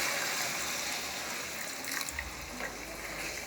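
Water gushes steadily into a pot of Chettinad mutton biryani gravy, a continuous close pour with slight splashing shifts partway through.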